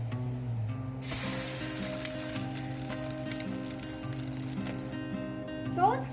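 Egg-soaked bread frying in a pan for French toast, a steady sizzle that swells sharply after a second, with light clinks and a scrape near the end and no voices over it.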